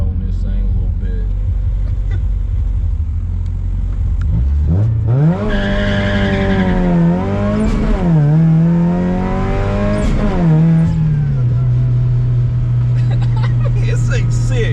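A supercharged Mazda Miata driven hard, engine note climbing and holding high through a long rev run with tire squeal, loud and close, as someone talks over parts of it.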